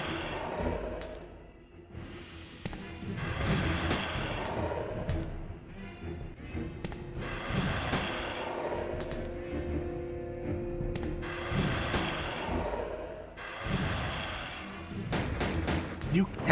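Repeated gunshots fired at a boss in Resident Evil 2, loud sharp bursts spaced a few seconds apart over a rumbling game backdrop, with a voice talking between shots.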